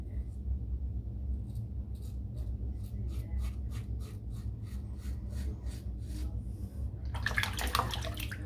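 Water runs steadily from a tap as a razor is rinsed under it, with a sequence of short rhythmic knocks or taps against the basin and a louder splashing burst near the end.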